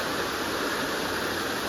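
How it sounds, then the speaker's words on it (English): Runoff water flowing from a pond across a road makes a steady broadband rushing wash, close and continuous, like a small stream or spillway, with no voices. "Just thought I'd give you a little relaxing water sounds."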